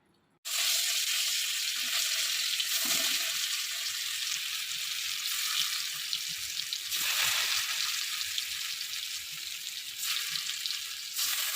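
Paneer cubes frying in a pan, a loud continuous bright sizzle that starts abruptly and holds steady throughout, with slight swells and dips as pieces shift.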